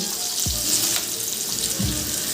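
Chopped onion frying with mace, cloves and black pepper in a pan for chicken korma gives a steady, close hiss, with a couple of stirring scrapes.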